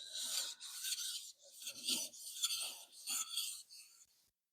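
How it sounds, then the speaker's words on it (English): A steel knife blade rasps in repeated strokes against a sharpening stone, each pass a gritty scrape separated by brief pauses, close and clear with no talking. "back to knife sharpening"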